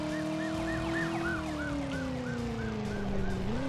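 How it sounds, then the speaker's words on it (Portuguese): Police siren in the Driver video game wails steadily and loudly for the whole stretch, its rising and falling tones layered over a constant engine drone with no talk. "Um barulho de polícia sem ter polícia, beleza."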